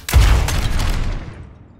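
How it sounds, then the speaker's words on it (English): Helix rockets fired at targets in the video game Overwatch 2 give a loud, close burst of rapid explosive blasts that hit at once and decay over about a second and a half. "Fire your Helix rockets at the targets."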